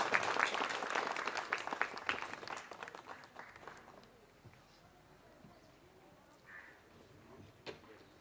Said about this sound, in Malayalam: എല്ലാവരും ചേർന്ന് നല്ല കൈയടി കൊടുക്കാം